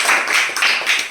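A small group of children gives Surajit a quick round of clapping at the end of a game, a short close burst of hand claps with no talk.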